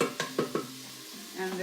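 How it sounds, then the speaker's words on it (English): Aromatics for a shrimp soup stir-fried in a pan, with a few sharp stirring scrapes at the start and then a low, soft sizzle close by, no talking. "you're gonna kind of like stir fry it for a little bit"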